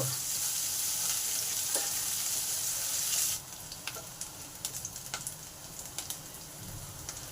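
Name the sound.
chillies and garlic frying in oil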